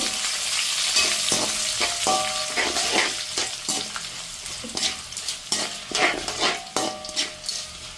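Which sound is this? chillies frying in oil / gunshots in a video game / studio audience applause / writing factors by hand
chillies frying in oil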